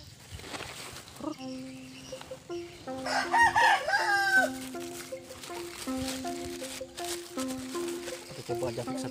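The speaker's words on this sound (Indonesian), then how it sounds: "Mancing ditemani ayam guys." A rooster crows nearby during a relaxed fishing outing, several drawn-out stepped calls repeating over nine seconds, loud and clear, with a person speaking intermittently in between.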